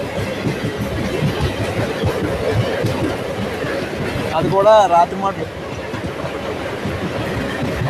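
A MEMU train running on the Machilipatnam–Bhimavaram line gives a steady rumbling roll throughout, with a brief rising whistle-like tone near the middle, while a person speaks over it.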